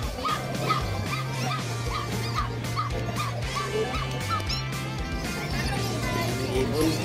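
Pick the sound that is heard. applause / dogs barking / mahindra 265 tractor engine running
dogs barking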